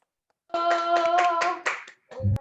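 Applause from a small audience after a doctoral thesis defense: a short burst of close hand clapping lasting over a second, then a brief pause and a final flurry of claps.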